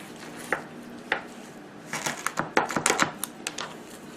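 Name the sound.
knife cutting chicken wing at the joint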